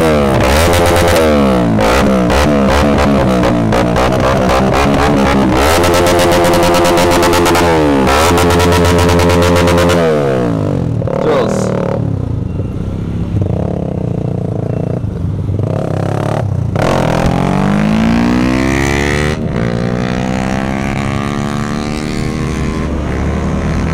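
A GPX Demon RR motorcycle engine revs hard on a night run, loud rising and falling whines with sharp throttle blips and bursts, steady and close throughout.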